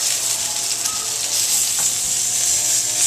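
Food sears in a hot pan with a loud, steady, close sizzle that carries on without a break, with a faint clink from the flip partway through.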